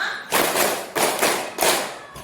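A group of people claps five times in a counted rhythm, following a teacher's count. The bright, crisp claps are close and evenly spaced, each a broad burst, and nobody speaks over them.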